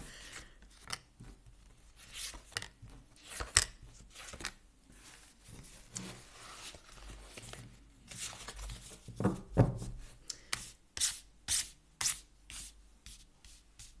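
Tarot cards are shuffled and spread out on a table, producing soft, irregular sliding and flicking rustles, close and quiet, with bursts of quick card snaps growing denser toward the end.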